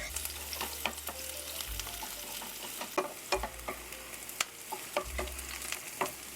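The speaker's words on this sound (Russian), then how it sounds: "Отправляю обжариваться лук до легкого золотистого цвета." Onion fries in vegetable oil in a pan, giving a soft, continuous sizzle. Frequent crisp pops and stirring taps sound over a low hum.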